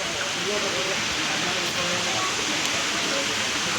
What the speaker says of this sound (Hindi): दोस्तों अब बहुत ही तेज़ एकदम बारिश आ गई है